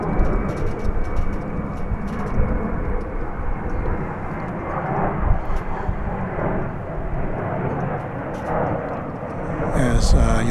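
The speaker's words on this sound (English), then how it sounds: "flight 1798 taking off for San Diego there on the left. American Airlines Airbus A321" An American Airlines Airbus A321 takes off at Dallas/Fort Worth Airport, heard as a steady, broad engine roar at moderate distance, with someone talking over it throughout.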